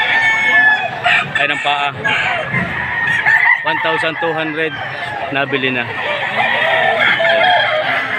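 A nine-month-old rooster for sale at a livestock market crows loudly and clucks repeatedly at close range, with other fowl nearby and people talking over the calls.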